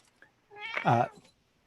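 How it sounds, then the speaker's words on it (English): A pet cat meows once, a short rising-and-falling call that sits alone in an otherwise quiet indoor room. "my cat tries to knock over my light"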